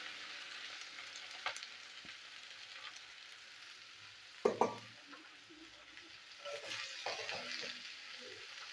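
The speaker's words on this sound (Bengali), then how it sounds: "এবার উচ্ছেটা পেঁয়াজ একসাথে আমি দিয়ে দিলাম তেলের মধ্যে" Bitter gourd and onion dropped into hot oil with nigella seeds, giving a soft, steady sizzle with a sharper burst of frying noise midway and occasional stirring clatter, close by with no talk.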